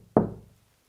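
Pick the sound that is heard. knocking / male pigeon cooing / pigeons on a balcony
knocking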